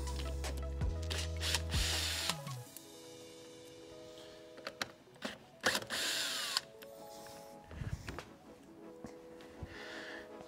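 An 8mm socket on a power driver loosens the intake hose clamps on an NA Miata, with a close whirring burst at the start followed by clicks, metallic clatter and short tool whines.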